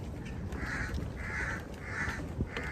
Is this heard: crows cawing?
yes